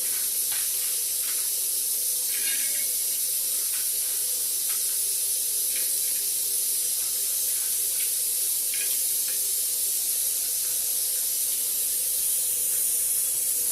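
Peanuts roast in oil in a flat pan, giving a steady close sizzling hiss with faint scattered crackles throughout and no talking.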